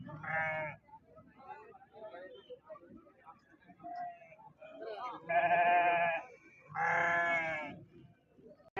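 Rams at a weekly village livestock market bleat in several loud, drawn-out calls, one early and two close together near the end, with quieter murmurs and crowd noise in between.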